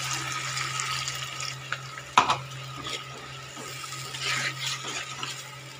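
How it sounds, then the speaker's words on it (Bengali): Rinse water from a mixer jar poured into a simmering singi fish curry, a short splashy pour with a brief clink, over low steady background hum. "এবারে আমি এই যে মিক্সি বাটি ধোয়া জলটা আমি দিয়ে দেবো।"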